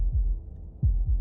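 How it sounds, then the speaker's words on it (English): A deep, muffled heartbeat in the video game Slay the Princess thumps low and close, a few slow beats with a double-pulse rhythm over a dull hum, heard alone. "That was the sound of a heartbeat"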